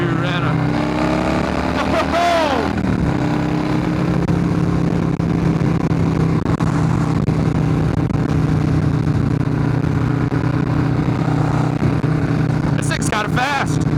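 A Perewitz custom Harley-Davidson Softail Slim motorcycle engine drones steadily and loud throughout as the bike is ridden, with a brief pitch sweep of revving early on and another burst near the end.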